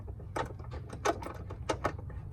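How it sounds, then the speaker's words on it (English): A ratchet with a 19 mm socket tightens trailing arm spacer bolts on a 2000 Honda CR-V, clicking in quick close bursts over a low hum, with no talking. "So now we're gonna tighten them up. It's a 19 socket."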